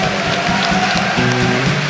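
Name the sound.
applause for Jesus in church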